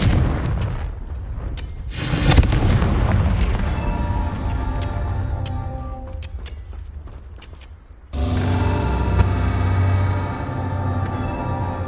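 Confringo blasting curse in Hogwarts Legacy: a loud deep boom with a sharp crack that rumbles and fades over several seconds, then a second heavy blast and its rumbling tail, with creaking debris in between.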